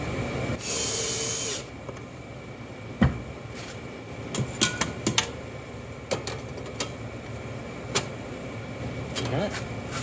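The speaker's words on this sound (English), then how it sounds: "then we'll hammer it in" A hammer taps in fasteners on a wall-mounted angle grinder storage rack, giving a handful of sharp, irregular close knocks over a steady background hum.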